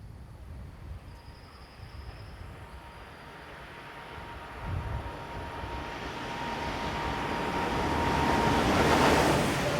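A Class 427 electric multiple unit on a local service to Fulda approaches, its broad rumbling hiss swelling steadily from far to near over about ten seconds.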